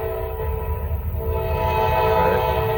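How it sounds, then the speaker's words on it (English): A Norfolk Southern freight train rumbles past close by, its horn sounding in long sustained blasts over the steady roar of the locomotive and rolling cars. "Let's see how fast this train going"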